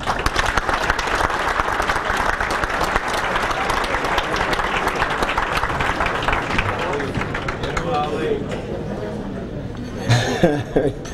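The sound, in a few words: banquet audience applause and cheering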